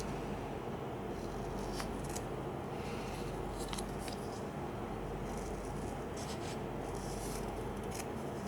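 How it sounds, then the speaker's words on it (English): Scissors snip through kinesiology tape for golfer's elbow taping, giving a string of close, crisp cutting and rubbing sounds at irregular intervals over a steady background hiss. "So I'm just going to cut about 6 inches or so into one end like that."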